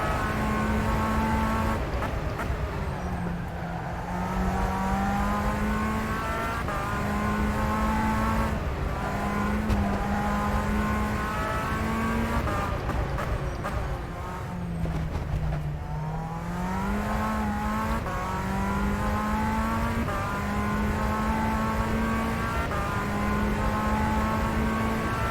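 A high-pitched Tatuus formula racing car engine in rFactor 2 whines steadily, rising and falling through gear shifts with brief lifts off the throttle, loud and close with no talking.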